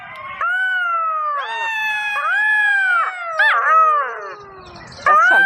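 A pack of jackals howls in overlapping, wavering wails that rise and fall, several voices layered into an eerie chorus, fairly loud and continuous, with no talk.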